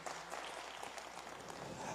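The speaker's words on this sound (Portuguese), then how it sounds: "Aplaude o Senhor que te trouxe aqui nessa noite" A church congregation applauds during an evening worship service, steady dense clapping filling the room for two seconds with no pause.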